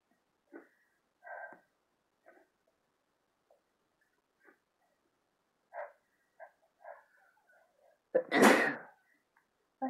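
A person sneezes after inhaling chhinkni, a sneeze-inducing powder: a run of quiet sniffs and soft breathy sounds, then one loud, close, explosive sneeze near the end.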